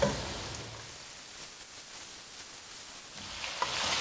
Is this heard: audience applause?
no